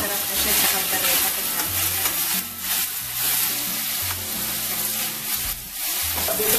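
Beef caldereta is sautéed in the same pan used to brown the beef, a steady close sizzle with scraping stirs, and low electrical hum tones sit underneath throughout.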